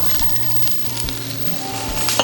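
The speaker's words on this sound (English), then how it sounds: "I have a little bit of olive oil in a hot pan, and we're going to add some zucchini" Zucchini and yellow squash sizzling in olive oil in a hot pan, a steady, close, crackling hiss that holds evenly throughout with small pops and no talk.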